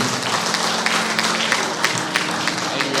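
Applause at a live evening music program in honor of a singer, with dense steady clapping over a faint low hum throughout.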